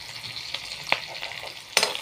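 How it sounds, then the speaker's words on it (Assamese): Onions frying in hot oil hiss and sizzle at close range, with a few sharp stirring scrapes and clinks, no talking. "তেল গৰম হৈ গৈছে, মই পিঁয়াজ দি দিলোঁ।"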